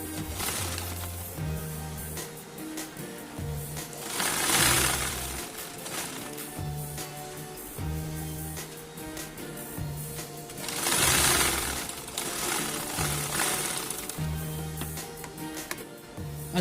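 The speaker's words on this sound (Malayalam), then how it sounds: "അപ്പോൾ നമുക്ക് മാസ്ക് ഉണ്ടാക്കാനുള്ള മെറ്റീരിയൽ തയ്യൽ മെഷീനിലേക്ക് മാറ്റിയിരിക്കുകയാണ്." A sewing machine stitches a cloth strap, folded in four, for a homemade face mask, running in a steady, continuous whir for the whole stretch, with a louder surge twice, over background music.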